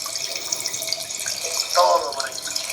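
Water escaping from a repaired faucet valve stem runs in a steady close trickle that splashes into a sink, with a brief louder gush near the end and no talking.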